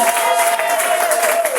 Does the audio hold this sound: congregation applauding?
yes